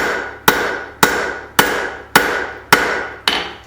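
A straight peen hammer forges hot metal while stretching stock for a candle holder: seven sharp, evenly spaced ringing blows about half a second apart, each decaying quickly, loud and close with no talk.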